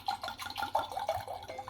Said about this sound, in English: The sound of wine pouring into the glass.